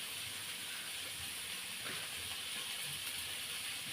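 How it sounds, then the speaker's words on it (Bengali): Eggs frying in a pan with cabbage, tomato, green chilli, onion and coriander give a steady broadband sizzling hiss that stays even and fairly quiet throughout, with no talking. "তো এইদিকে ডিমটা ভেজে নিচ্ছি আমি"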